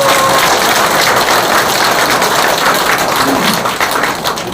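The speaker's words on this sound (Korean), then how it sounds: "그분들이 다시 한번 박수 한번 드립니다." A political audience gives loud, sustained applause at a book event, many hands clapping close and strong for several seconds before tapering slightly.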